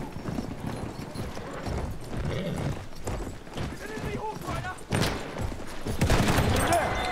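A horse gallops with rapid hoof clip-clops in the Battlefield 1 video game, mixed with bursts of gunfire and a whinny, while a player talks over the action.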